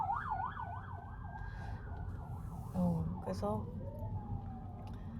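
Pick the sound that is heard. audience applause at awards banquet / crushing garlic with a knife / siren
siren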